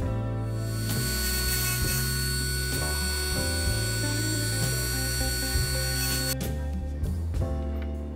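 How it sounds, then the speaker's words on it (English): A die grinder grinds metal to remove high spots and runout on a cheap Chinese tool, giving a steady, loud high-pitched whine with a rough grinding edge that dips and rises in pitch as it bites, with no speech. "I reached for the die grinder and went to town."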